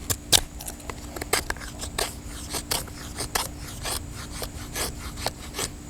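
An Old Timer Mountain Beaver Sr knife whittles poplar wood, making short, dry scraping and shaving strokes at irregular intervals over a faint background hum, close up, with no talking.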